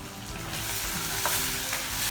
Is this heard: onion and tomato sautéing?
yes